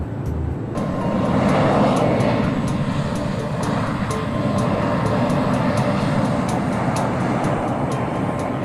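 Steady engine and airflow drone inside the cabin of a large private jet, a converted 228-passenger airliner, in flight; a constant loud roar with faint periodic ticks and no talking.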